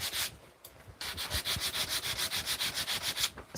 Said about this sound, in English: So I'm gonna be sanding this until I see a very specific change.